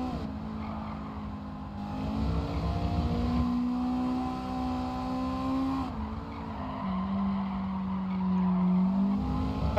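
Race car engine in Gran Turismo 7 with traction control switched off, revving loud and steady throughout with shifting pitch, tire squeal and skidding through corners, no talking.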